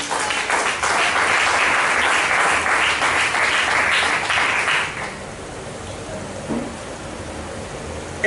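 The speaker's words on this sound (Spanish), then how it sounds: "Denle un aplauso a Jesús." A church congregation claps loudly and continuously for about five seconds, then the applause fades out, leaving a quiet room with a faint stray sound.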